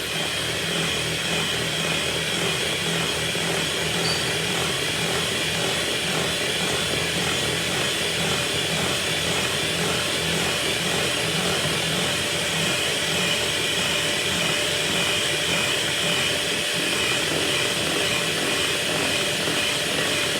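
Loud, continuous whirring of an electric mixer beating cake batter nonstop, a steady motor drone with a rough churning texture.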